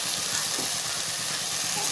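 Chilli powder, turmeric, biryani masala and salt sizzling in oil as they are stirred in a pan for Ambur chicken biryani, a dense, steady hiss that stays loud and close throughout.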